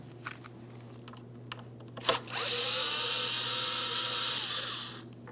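A power drill backs out Phillips head mounting screws holding the radiator fan motor on a 2003-2008 Toyota Matrix 1.8L L4, with a brief clack and then a steady, close whirring spin lasting a few seconds over a low background hum.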